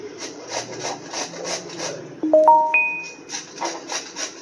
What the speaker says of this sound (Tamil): ஒவ்வொரு பீஸாக நம்ம அழகாக இந்த மாதிரி துருவி எடுத்துக்கலாம்